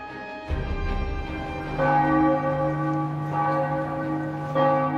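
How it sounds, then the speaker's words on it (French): Large bells of Amiens Cathedral ring the noon strokes with deep, resonant tolls that overlap and sustain, each new strike swelling the loud, reverberant hum. "les cloches de la cathédrale d'Amiens commencent à sonner les 12 coups de midi"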